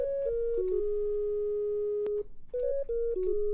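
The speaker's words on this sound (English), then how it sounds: "Cycling through the different sine waves." A pure synthesizer sine wave tone plays a short stepped melody of held notes, pauses briefly, then repeats the phrase, clean and close.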